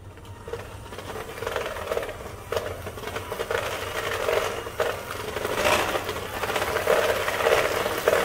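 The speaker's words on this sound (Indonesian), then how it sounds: "kita akan kocok dengan speed tinggi sampai dia berbusa atau kurang lebih 2 sampai 3 menit" An electric mixer beats eggs and powdered sugar at high speed for brownie batter, a steady close mechanical whir that thickens and grows slightly louder over time, with a few brief clatters and no talk.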